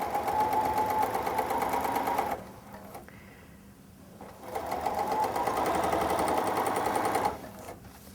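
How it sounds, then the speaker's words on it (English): A Bernina sewing machine runs in a steady straight stitch while sewing binding onto a quilt, in two loud, even bursts of motor whir separated by a short quiet pause. "I'm going to sew this on to the right side of my quilt as you would any other type of binding."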